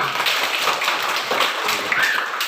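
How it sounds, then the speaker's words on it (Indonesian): A group of people claps their hands in a dense, continuous patter of applause, loud and close, with no speech on top. "Tepuk tangan buat kita semua"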